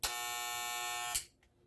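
A Wahl T-Wide tattoo trimmer runs alone with a steady, bright electric buzz for about a second, then clicks off and leaves near silence.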